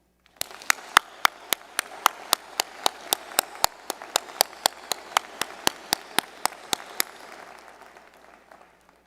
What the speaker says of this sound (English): Please join me in a round of applause for Professor Trent Buwate.